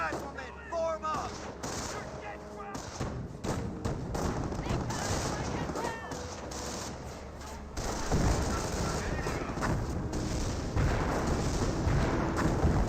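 A registered artillery barrage in Company of Heroes, rumbling explosions and booms mixed with rattling rifle and machine-gun fire, continuous and dense across the battle.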